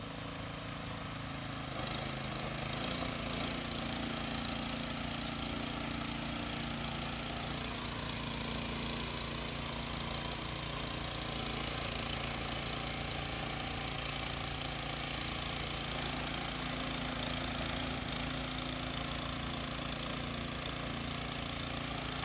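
A ride-on lawn mower sits idling in neutral, its engine running steadily and fairly loud for the whole stretch, a constant mid-pitched drone with a faint rumble and no talking.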